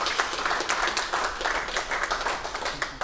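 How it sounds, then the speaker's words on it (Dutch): Audience applause for nominees of a local entrepreneurs' award ceremony, a steady dense patter of many hands clapping throughout, fairly close and without speech. "nog even een applaus voor de genomineerden van de ondernemersprijs"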